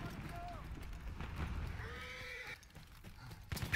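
In the Battlefield 1 video game, a horse whinnies and hooves clip-clop amid battle ambience, heard fairly faintly with game noise throughout and a louder burst at the end.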